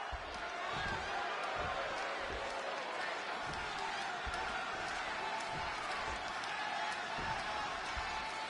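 Arena crowd in Chicago in the WWE 2K26 video game, a steady roar of cheering with scattered thuds and slams from the ring, under continuous commentary.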